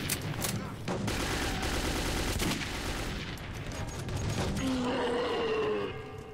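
Rapid gunfire in the post-apocalyptic shooter Metro 2033 rattles in dense, loud bursts that fill most of the moment, tailing off into quieter mechanical sounds near the end.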